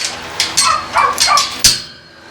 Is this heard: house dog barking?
yes